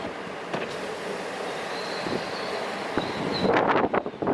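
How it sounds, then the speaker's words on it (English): Strong winter storm wind rushing in through an open window over water, a loud steady roar with gusts building toward the end. "Let me take the window down here and you can get some idea of the wind."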